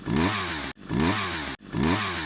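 A chainsaw revving in the anime Chainsaw Man, three loud engine bursts that rise in pitch, each cut off by a brief silence.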